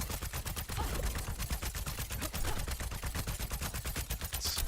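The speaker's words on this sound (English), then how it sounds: "And you just keep shooting for a really long time." Sustained rapid gunfire from the video game Overwatch 2, a steady fast stream of shots firing without pause for several seconds, fairly quiet and even, with no voices over it.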